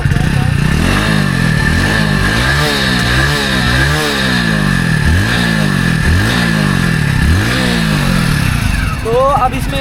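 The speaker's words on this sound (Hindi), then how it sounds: "इधर आके कैमरा में इसका एग्जॉस्ट साउंड सुनाना" Loud, close Hero Splendor motorcycle exhaust rumbling and revving in repeated swells over a steady idle, with a voice speaking over it.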